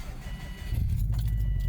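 A bunch of keys jangles briefly up close in a garage near a car, a short metallic rattle over a low steady rumble.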